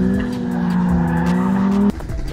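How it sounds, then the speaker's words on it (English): A stock Nissan 300Z drifts on a track, its tires squealing in a loud, sustained, tonal screech that cuts off abruptly near the end, leaving engine rumble. "There's no way he's gonna successfully drift a stock 300Z."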